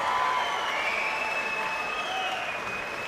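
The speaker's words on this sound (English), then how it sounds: "a round of applause for the gallant and brave Alex Pitbull" Boxing crowd applauding steadily for a defeated fighter after a points decision in a UK arena, dense sustained clapping with a faint voice over the din.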